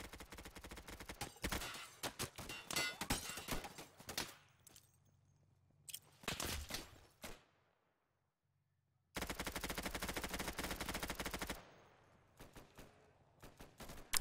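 Rapid bursts of automatic gunfire from a video game gun on a custom zombie map, loud and close, coming in long sustained volleys separated by short pauses and near silence.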